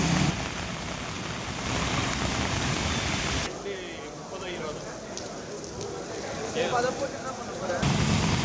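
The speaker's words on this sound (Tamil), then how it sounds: "திருவள்ளூர் மாவட்டம் பொன்னேரி மற்றும் சுற்றுவட்டார பகுதிகளில் பலத்த காற்றுடன் கனமழை பெய்து வருகிறது" Heavy rain driven by strong wind in Ponneri, Tiruvallur district, Tamil Nadu, gives a dense, steady roar of downpour and gusts that stays loud throughout, with a brief change in texture midway.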